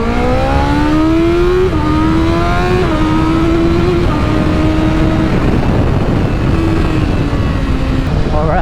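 A BMW M1000RR motorcycle engine revs loud and close, its smooth pitch climbing, dropping between gear changes and rising again in a steady, continuous roar with no pauses.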